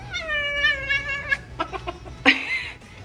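A pet cat named Sassy gives a drawn-out, wavering meow followed by a few shorter chirping calls and a sharp squeal, close to the listener with no speech.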